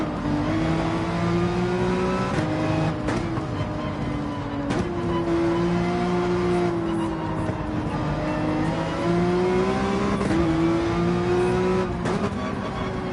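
A Ferrari 458 race car in Gran Turismo 7 revs hard through the gears on a track, its loud engine note climbing and dropping with each shift and brief lifts between throttle bursts.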